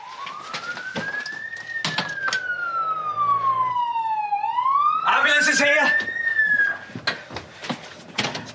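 An ambulance siren wails in a slow rising and falling sweep, loud and close, sliding down then back up, with people talking over it and a sharp pip near the end.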